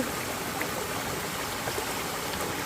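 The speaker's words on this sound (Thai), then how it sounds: "นี่มาเจอ น้ำตกสวยๆแล้วนะคะ" A small forest waterfall spills into a flowing stream, giving a steady, close, broadband rush of water that holds constant throughout with no voices over it.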